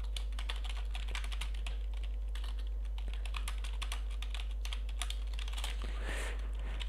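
Rapid, steady typing on a computer keyboard, close and fairly loud, clattering on without pause over a constant low electrical hum during a BedWars game session.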